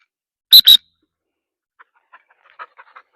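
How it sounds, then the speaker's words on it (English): Two sharp, high whistle blasts in quick succession recall a dog during a training session, loud and close, followed by faint scattered small sounds. "the double whistle is just telling her to come back"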